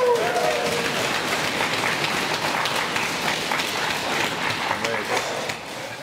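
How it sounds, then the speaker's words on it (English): Wedding guests clapping at an underwater wedding, a steady wash of applause with scattered voices mixed in, lasting about six seconds before tapering slightly. "I think we have another applause here going"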